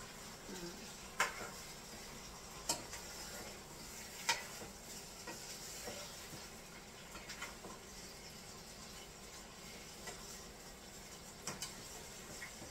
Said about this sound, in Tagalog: Kailangan ko lang pong ihalo dito sa sibuyas at saka ginger po yung isda.